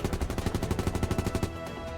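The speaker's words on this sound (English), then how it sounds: "The gunshots aren't coming from far away" Rapid gunfire from a visual novel game, a fast even burst of about a dozen sharp shots in close succession that is loud and near, then stops abruptly and leaves a lingering hum.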